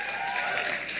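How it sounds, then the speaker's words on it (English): A university audience claps and cheers at a talk, producing a dense, continuous wash of applause with high-pitched shouts, loud and close, with no pauses. "those of you who are clapping and screaming, listen to me"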